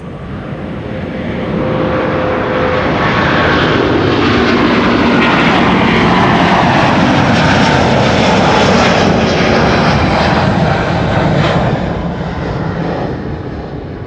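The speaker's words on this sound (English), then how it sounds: "This is Delta Airlines Flight 161, A350-900 going to Minneapolis, Minnesota" A Delta Air Lines Airbus A350-900 bound for Minneapolis takes off from runway 24 at Amsterdam Schiphol, a loud, sustained jet-engine roar that holds steady throughout and eases only slightly at the end, with no talk.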